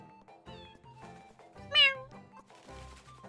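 A cat meows in a video game, several short high mews under a person talking, with one louder drawn-out meow in the middle.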